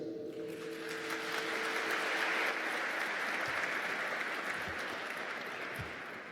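Audience applause at a Constitution Day naturalization ceremony swells into a broad, steady wash of many hands clapping at moderate distance, sustained throughout, with a faint tone fading out at the start.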